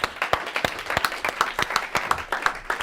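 Small audience clapping by hand for several seconds, a scattered, uneven patter of individual claps at moderate distance with no voices over it.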